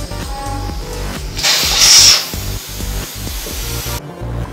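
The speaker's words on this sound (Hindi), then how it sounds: "अब हम प्रेशर कुकर का ढक्कन उतार कर देखते हैं" Steam hisses out in a loud burst for about a second as the lid comes off a pressure cooker holding goat trotters, with faint clunks and a low background hum before and after.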